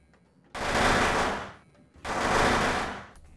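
Guns open up on a dragon in a video game, firing in two long, dense bursts of rapid gunfire, each about a second long and loud, separated by a short pause.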